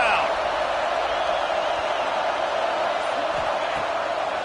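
Steady roar of a college football stadium crowd, Texas Tech versus Auburn, building on a third-and-goal defensive stand; a dense, continuous wash of cheering fills the whole stretch without letup.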